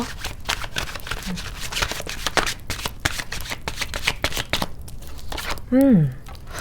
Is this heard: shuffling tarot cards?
yes